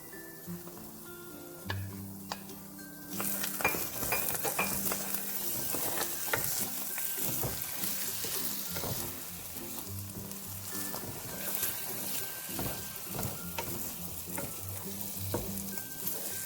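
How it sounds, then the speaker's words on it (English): Four eggs scrambled and sizzling in a pan alongside corned beef hash, a continuous loud frying crackle with scattered stirring scrapes and clicks. "now I am going to go ahead and scramble in 4 eggs"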